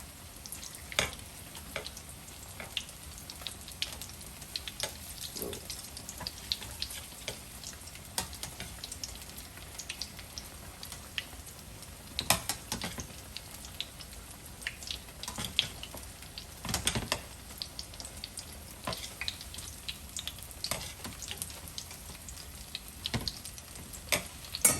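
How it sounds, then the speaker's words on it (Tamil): Onion vada frying in hot oil, a steady soft crackle and fizz running throughout at low level, with occasional louder pops and stirring clatters, nobody talking. "பார்த்திங்கன்னா நல்லா ஃப்ரை ஆகிடுக்கு."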